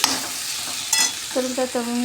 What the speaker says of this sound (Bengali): ভালো মতন করে নাড়াচাড়া করে দেবো এখন দিলাম ভাজা মশলা